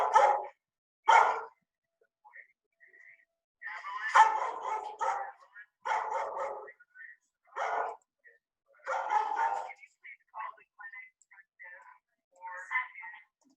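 A dog in a shelter-style kennel barks at a stranger through a barrier, a run of sharp separate barks and yips in irregular bursts with short pauses, fairly close, no talk in between.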